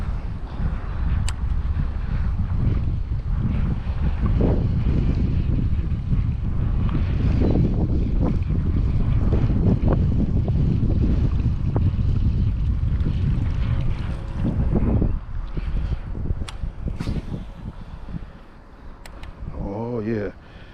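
Strong wind buffets the microphone aboard a fishing boat on open water on a windy day. The roar is loud and continuous, with gusts and some faint talking.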